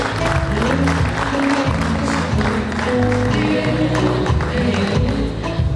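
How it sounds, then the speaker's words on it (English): An audience at an investiture ceremony applauds loudly and continuously, with dense clapping running the full length over a low background of music or crowd noise. "Let's give him a very big round of applause."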